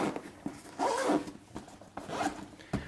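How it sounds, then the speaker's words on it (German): A zipper on a Meguiar's kit bag is pulled closed in two or three quick, rasping strokes, close and clear with no speech. "Also der Reißverschluss geht trotzdem noch zu hier."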